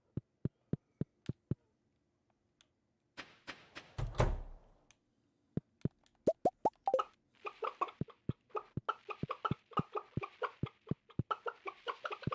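Chickens in the farming game Stardew Valley give a run of short, sharp clucks and plops, evenly spaced at first, then a dense burst of overlapping chatter from many birds, with a brief low thump midway.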